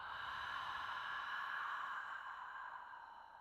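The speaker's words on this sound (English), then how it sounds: "Let's take a releasing breath here together. Inhale, and let it go." A slow, soft releasing exhale of breath during a yoga practice, a faint airy breathy rush that swells and then gradually fades over a few seconds, heard alone.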